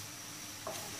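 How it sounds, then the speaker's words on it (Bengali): Chicken rice in a pan on the stove, a steady soft sizzle with a brief stirring scrape just past the midpoint, no voices. "চুলায় রেখে একটু হালকা নাড়তে হবে"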